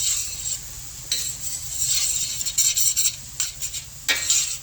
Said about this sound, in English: You still hear the sizzling, which is what you want to hear.